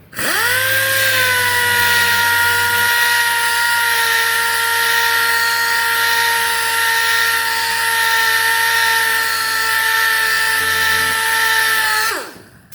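A new Multipro electric wood sanding machine runs at a steady high-pitched whine, loud and close, holding one even tone for about twelve seconds before spinning down and cutting off.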